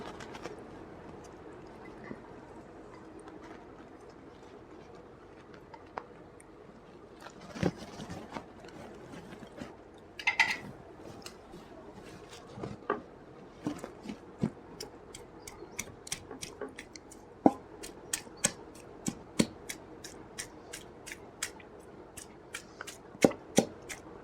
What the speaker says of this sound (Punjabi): ਹੁਣ ਆਪਾਂ ਚਟਨੀ ਨੂੰ ਉਹ ਤੱਕ ਕੁੱਟਣਾ ਜਦੋਂ ਇਹਦੇ ਚਿਬੜਾ ਦੇ ਬੀਜ ਆ ਸਾਰੇ ਇੱਕ ਜਾਨ ਨਹੀਂ ਹੁੰਦੇ ਹੈਗੇ